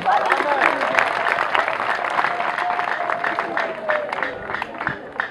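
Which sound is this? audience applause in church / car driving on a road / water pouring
audience applause in church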